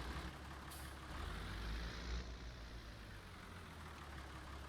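A tractor in Farming Simulator 19 drives onto a liquid fertilizer tank, its engine a steady low rumble with a brief hiss like an air brake near the start, heard alone without talk.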